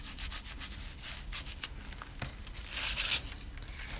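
A distress blending brush swept lightly over a stencil, giving soft, close bristly rubbing in a series of short strokes, with one slightly louder scratchy pass near the end.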